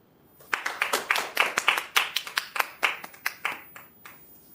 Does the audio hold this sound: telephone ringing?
no